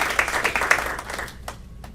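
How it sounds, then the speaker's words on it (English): Applause in a school board meeting for a history teacher retiring after 25 years, a dense patter of clapping hands for about a second and a half that thins out and fades, with a few scattered last claps. "give a round of applause for Miss Jeffrey Berger, who has had 25 year"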